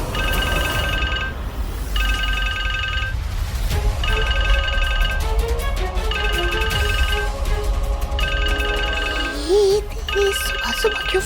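A phone ringtone plays in repeated bursts of the same bright tone, loud and close, over a continuous music bed.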